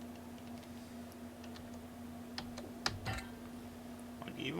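Typing on a computer keyboard, sparse quiet clicks and taps, with a few sharper louder keystrokes near the middle over a low steady hum.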